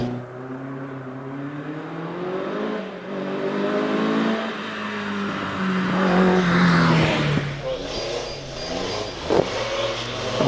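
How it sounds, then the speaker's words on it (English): A Westfield race car, number 269, accelerates hard at the Prescott hillclimb. The engine note climbs through revs and shifts pitch as the car turns into a left-hander, loud and close, with no talk over it. "Car number 269 then turning into the left-hander."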